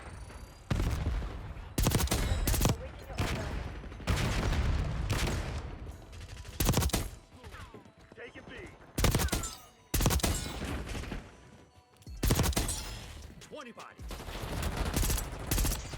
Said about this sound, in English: I have a burst gun, so it's like if it doesn't kill him in the first burst like that